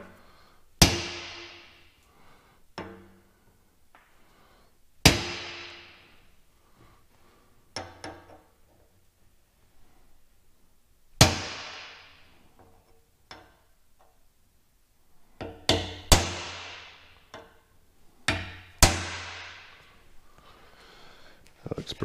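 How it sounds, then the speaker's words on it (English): Sharp metallic strikes of a hammered center punch marking metal ring out one at a time at irregular intervals, each a hard tap with a brief decaying ring, with quiet stretches between. "It's always a good thing to center punch your holes before you drill them."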